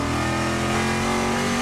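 Trans Am race cars on Pirelli P0 tires corner loose on cold concrete and asphalt at Thunderhill, with a loud, steady engine drone and dense harmonics sustained close by throughout.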